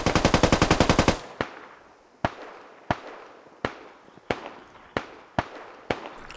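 Gunfire in the Squad Ops video game: a rapid burst of about ten automatic shots, then roughly eight single loud reports at uneven intervals, each ringing out with a short echoing tail, with no talk.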